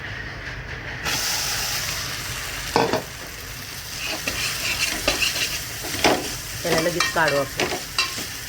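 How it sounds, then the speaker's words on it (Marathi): Sago pearls roasting in a hot pan with a little oil, a steady sizzle with scraping stirs and clinks of a spoon against the pan; someone speaks briefly over it. "शाबू घेतला इथं, भाजून घेऊ आपण शाबू"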